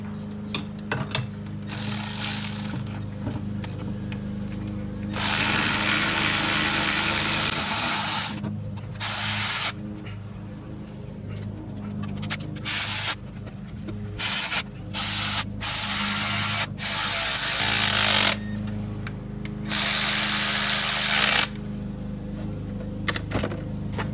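Ratchet tightening spark plugs on a Ram engine, bursts of rapid clicking ratcheting alternating with pauses and handling noise, close and fairly loud, no voices.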